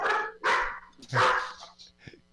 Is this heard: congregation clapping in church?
no